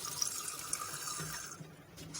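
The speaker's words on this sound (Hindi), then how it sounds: "और अब हम इसको एक दफ़ा ठंडे पानी से धो लेंगे।" Cold tap water runs over strained pasta in a steady, close gush of spray and splashing that thins toward the end, with a few spattering bursts.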